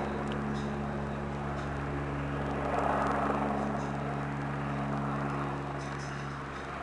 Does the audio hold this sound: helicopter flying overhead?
yes